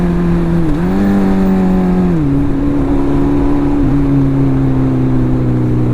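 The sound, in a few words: Suzuki Hayabusa motorcycle engine revving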